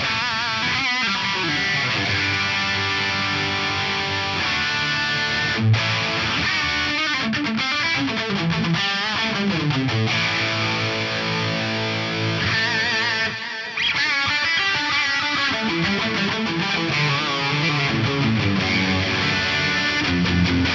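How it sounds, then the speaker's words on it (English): Electric guitar rings out through an amp, chords and sustained notes washed in lush plate reverb that trails off between phrases, loud and continuous. "just a good old London plate reverb"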